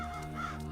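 Ravens gathered at a carcass left by wolves give a steady, close caw, loud and continuous, with other birds faintly behind it.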